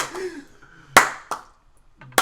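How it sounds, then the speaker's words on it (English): A few sharp, separate hand claps ring out in a quiet podcast room, with a brief voice sound just before them. "No more clapping."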